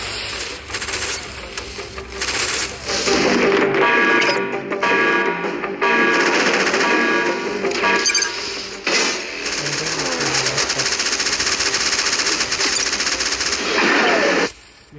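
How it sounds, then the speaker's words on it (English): A minigun fires in the mobile war game Warfriends, loud sustained bursts of rapid gunfire in long stretches broken by brief pauses, mixed with game effects and no voices. "you can just spam the minigun and he will be literally dead"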